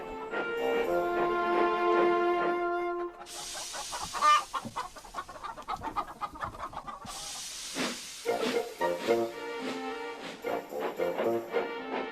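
Chickens cluck and squawk in bursts alongside the loud hissing, puffing of a steam locomotive in a Trainz simulation, with a bright whistle-like tone early on.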